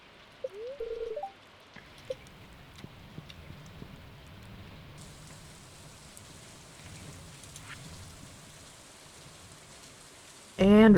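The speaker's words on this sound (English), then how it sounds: "Ooh, it's raining." Soft, steady rainfall in the farming video game Bogwood Valley, a quiet continuous patter with a few small game chimes and clicks, ending in a louder burst.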